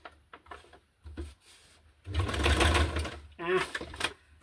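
A sewing machine stitching a straight line on a junk journal gives a loud, close mechanical whir that starts partway through and runs in two bursts, with talking before and between them.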